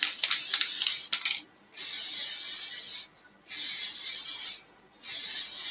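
Sanding sealer sprayed onto a turned piece, three bursts of sharp aerosol hiss of about a second and a half each, separated by short pauses, near and fairly loud, after some brief scratchy handling noises.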